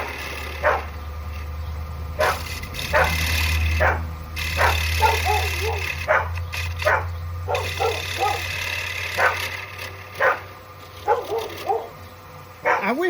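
Dogs bark and yip in repeated short bursts over a steady low engine drone in a woodworking shop, with a person talking between barks.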